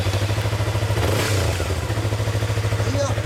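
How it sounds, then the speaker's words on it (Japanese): A Yamaha YZF-R25 motorcycle engine idles loudly up close with a rapid, throbbing pulse, briefly revving higher partway through. "R25 エンジン音聞かせてもらえるかな、1台ずつかけるからね"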